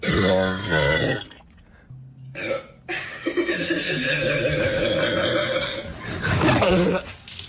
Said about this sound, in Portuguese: Este ele está vítima de arroto.